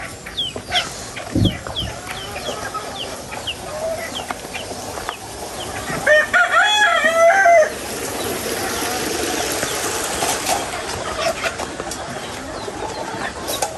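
Chickens cluck and chatter around a farmyard, with a rooster crowing briefly in the middle and some background rustling.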